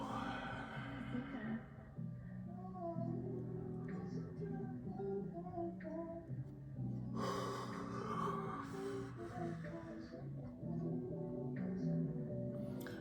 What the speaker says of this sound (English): Isn't there a superstition about yawning?